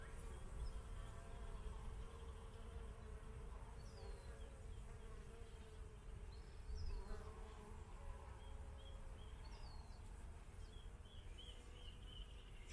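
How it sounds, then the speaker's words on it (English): Many bees buzzing outdoors along a hiking trail, a steady faint droning hum that continues throughout with occasional nearer passes, no talking. "Lots of bees."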